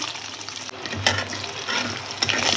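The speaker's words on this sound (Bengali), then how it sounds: "হালকা হালকা করে ডিমটা ভাজিয়ে নেবো।" Egg frying in hot oil seasoned with salt and turmeric in a home kitchen, a steady close sizzle with brief louder crackles and light stirring, no talk.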